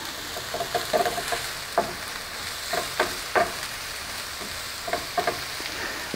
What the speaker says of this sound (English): my onion is getting brown